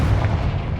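A Confringo blasting spell explodes in a wizarding video game, a loud, deep booming rumble that stays heavy and sustained for under a second with no voices.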